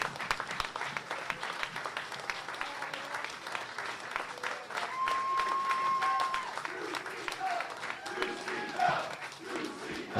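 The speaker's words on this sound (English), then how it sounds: "another round of applause for these 4 gladiators who just gave everything they could here in this matchup" A professional wrestling crowd applauds after a tag team match between American Wolves and Motorcity Machine Guns, a sustained roar of clapping and cheering that fills the hall, with an announcer's voice running over it.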